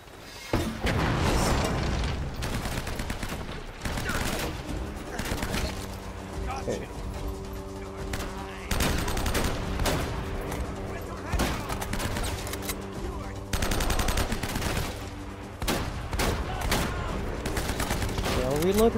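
Enemy gunfire in the video game Uncharted: Drake's Fortune, a continuous fusillade of loud rapid shots and bursts with clanking mechanical noises, while a player talks over parts of it.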